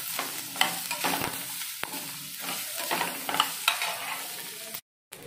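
Chopped onion fries with roasting coconut in a pan, making a continuous crackling sizzle broken by stirring scrapes and clicks, with a brief drop to silence near the end.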